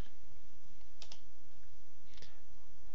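A computer keyboard is typed on in two short, sparse bursts of a few clicks each, fairly close, with no talk over them.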